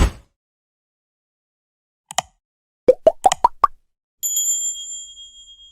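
Notification bell sound effect: a quick run of plucky plops and pops followed by a bright, ringing bell chime that fades out, crisp and close against silence.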